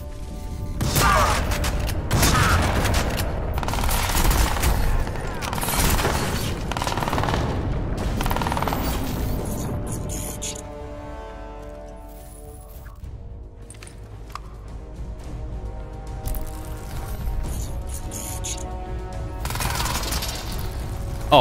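Shotgun blasts and bursts of gunfire in the video game Crysis 2, sharp repeated shots and rattling volleys mixed with mechanical clanks and game effects, loud and busy at first, then quieter with a lingering tonal hum.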